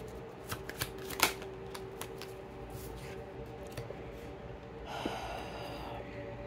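Tarot cards shuffled during a reading: a few crisp riffles and flicks, then a brief soft burst of card rustling near the end, quiet and close with no talk.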